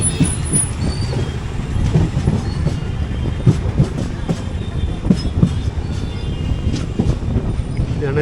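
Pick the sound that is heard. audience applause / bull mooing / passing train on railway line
passing train on railway line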